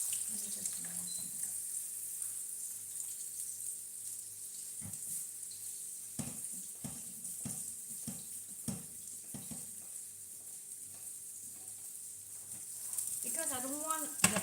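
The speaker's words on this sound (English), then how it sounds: "You just want to make sure that, you know, this is pan fried." Arayes, meat-stuffed bread, pan frying in oil, a faint continuous sizzle and hiss with scattered soft clicks and knocks of a utensil, ending in a slightly louder bubbling crackle.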